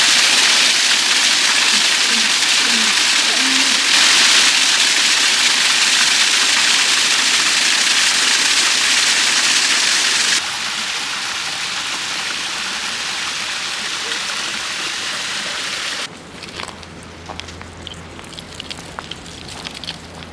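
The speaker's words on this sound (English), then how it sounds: "What a lovely little waterfall." A small waterfall runs over icy rocks beside a river near Harpers Ferry, West Virginia. It makes a loud, steady, close rushing roar that shifts in tone twice as the listening position changes, with no talk.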